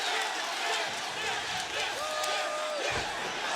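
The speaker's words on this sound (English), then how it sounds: "Listen to the crowd in this wonderful venue" A large arena crowd at an AEW Grand Slam wrestling match roars and cheers continuously and loudly, with a commentator talking over it.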